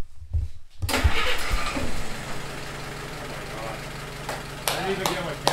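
A Willys Jeep engine cranks, catches and settles into a rough, steady idle, with a few sharp knocks and clunks and people talking nearby.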